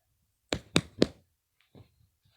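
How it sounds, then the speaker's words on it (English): A mystery visitor knocks on a door in the video game The Arcana: three firm, evenly spaced knocks, loud and close, followed by faint rustling. "the mystery visitor knocks again."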